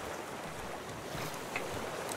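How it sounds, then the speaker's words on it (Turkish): Ocean waves wash and surge continuously in the survival video game Raft, a broad steady roar of open water with wind, moderately loud and unbroken throughout, with no talking. "çok fena dalga çıktı"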